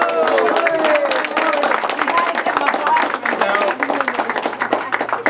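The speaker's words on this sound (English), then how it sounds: "Let's give her a round of applause" Guests at an 80th surprise birthday party clapping in a loose, lively burst, with chatter and cheering voices mixed throughout.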